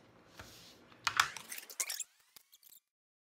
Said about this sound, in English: I'm gonna cut the rest of this ribbon, so into 12-inch strips